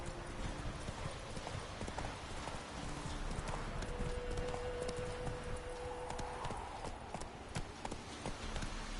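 Horse hooves clip-clop at a steady gallop in The Witcher 3, a brief whinny rising midway over continuous game ambience.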